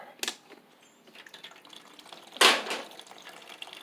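Water splashes and drips out of a push mower's fuel tank in two brief bursts, the second louder, with faint trickling between and no speech.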